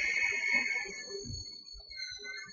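A CNC machine cuts raw stock for a spark plug opener, giving off a faint, steady high-pitched whine with tonal lines that shift partway through. Quiet low mechanical rumbling runs underneath.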